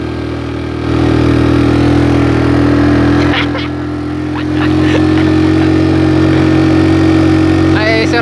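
Yamaha Mio Sporty scooter engine climbing a hill, a steady loud droning run that swells in revs around one second and again after four seconds, with faint voices under the noise.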